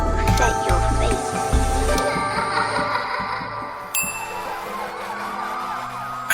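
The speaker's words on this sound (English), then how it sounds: "I hear the sirens." Sirens wail and warble at close range in an audio drama, a layered emergency-vehicle howl sweeping up and down alongside a bright ringing tone, loud and continuous.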